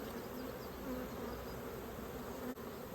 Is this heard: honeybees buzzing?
yes